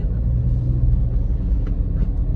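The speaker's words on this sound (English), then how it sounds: "So that's the traffic that's building up behind me because of this guy." Road traffic idles and creeps behind a car stopped at a highway construction zone in St. Thomas, a steady low engine rumble close by with no talk.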